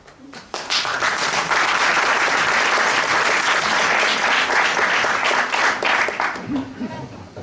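A theatre audience bursts into dense, sustained applause that rises quickly and holds loud for several seconds before tapering, with a voice heard faintly near the end.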